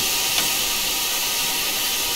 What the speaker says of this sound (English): safety valves, as you can hear, they won't go off. They won't shut off.